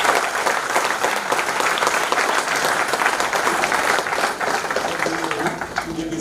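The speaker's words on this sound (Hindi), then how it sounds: "जोरदार तालियों से स्वागत।" Loud, steady applause from an audience welcoming an honoree at a motivational speech event, dense clapping running throughout without a break.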